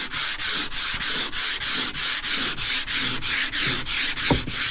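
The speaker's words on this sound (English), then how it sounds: "actually going over everything by hand manually with 150 grit sandpaper" A countertop is sanded by hand with 150 grit sandpaper in steady back-and-forth strokes, about three per second, loud and close with a rhythmic rasp.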